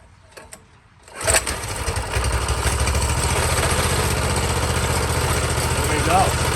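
A Honda CT200U motorcycle engine, its old carburetor refitted with the choke on, cranks and catches after a quiet start, then settles into a steady, rough, loud idle.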